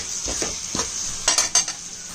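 Bright hissing sizzle of chili powder frying in hot oil for a brinjal fish curry, with a few stirring scrapes and clinks of a utensil against the pan.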